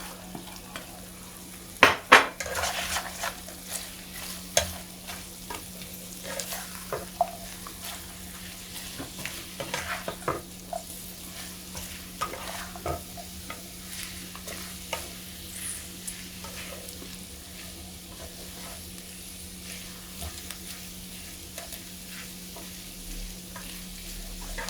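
Cabbage fries in a pan with a steady quiet sizzle, punctuated by clanks and scrapes of a utensil stirring it, with a few sharper knocks near the start.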